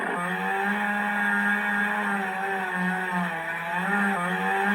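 Army of Darkness Ash's chainsaw electronic prop playing its button-triggered looping engine sound, a steady buzzing idle with slight wavers, continuous and close throughout.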